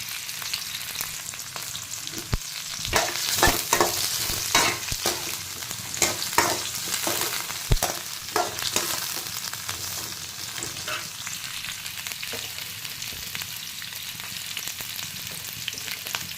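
Onions and green chillies sizzle steadily in a pan of oil while cooking a potato and pea masala, with a few sharp clinks and scrapes of a spoon stirring them throughout.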